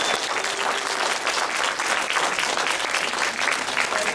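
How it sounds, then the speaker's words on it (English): A conference audience gives a warm, sustained round of applause for a film producer, dense clapping filling the room evenly and loudly from start to finish, with no talk over it. "So a warm round of applause, please"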